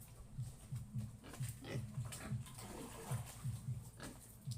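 Farm pigs grunt and snuffle nearby after feeding in a rapid, rhythmic pattern, quiet and continuous, with faint splashing of drinking water.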